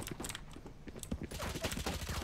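Rapid bursts of video game gunfire crackle in quick succession, a dense fusillade of shots close up, briefly thinning before resuming in a sustained volley.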